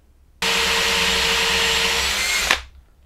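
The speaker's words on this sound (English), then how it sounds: "Now I can drill out a larger portion to allow for some dust evacuation." A power router whines steadily for about two seconds at close range while its bit drills out a hole, then cuts off abruptly and spins down.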